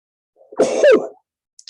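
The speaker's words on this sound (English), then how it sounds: "Just one second while I sneeze." A single sneeze, a short sharp burst with a breathy intake before it, close to the microphone, followed by quiet.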